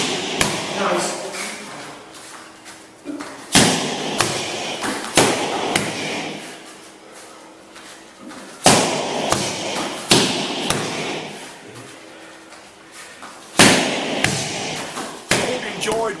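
Martial arts pad drills with combinations of strikes: bursts of sharp thuds and slaps on pads recur every few seconds, with quieter shuffling and faint speech between the flurries.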